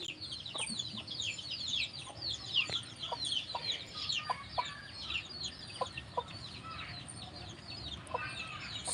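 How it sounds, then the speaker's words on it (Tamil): Chickens clucking and calling near and far in a village against a busy chorus of chirping birds, with short repeated clucks throughout and no voices. "சேவல்"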